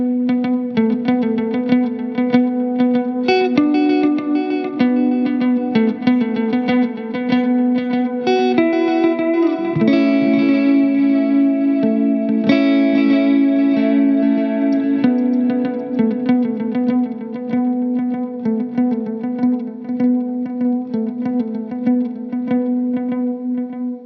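A 2016 digital delay pedal on electric guitar, set to a rhythmic pattern delay, repeats each plucked note in a steady pulsing cascade of echoes, loud and close with no talking.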